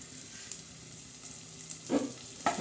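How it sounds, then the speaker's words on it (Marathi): Garlic and curry leaves crackle in hot oil for a dal tadka, an even close sizzle with a few sharper pops and spatters near the end. "आता याच्यामध्ये हा तडका देण्यासाठी आपण हा लसूण टाकणार आहोत त्याच्यानंतर हे कढीपत्ता टाकणार आहोत"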